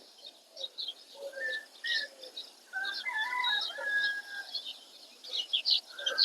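Several birds, including pigeons or doves, chirp and call in scattered bursts and trills, some near and some farther off, with no talk over them.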